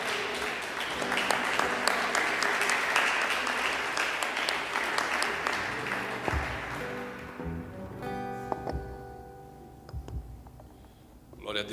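Church congregation clapping together during a Portuguese worship service, dense sustained applause that fades out after about seven seconds, leaving quieter scattered sounds and a faint voice.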